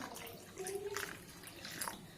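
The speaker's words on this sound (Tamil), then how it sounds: "தண்ணி இன்னும் கொஞ்சம் ஊற்றிக்கலாம்." Water trickles and splashes softly as it is poured into rava dosa batter in a mixing bowl, a faint close pour lasting a couple of seconds.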